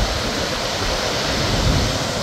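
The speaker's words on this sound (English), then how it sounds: "There are a couple of nice little waterfalls beside it." Montmorency Falls in Quebec roars as a continuous, loud, broadband rush of falling water with no speech.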